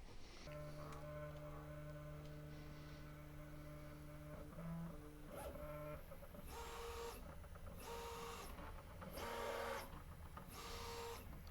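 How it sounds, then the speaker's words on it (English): Prusa MK3S 3D printer running its bed leveling routine, with steady stepper-motor whines holding tones that shift in pitch, then a series of rhythmic buzzing probe moves repeating at close range, continuous and alone. "now it's going to go through its bed leveling procedure"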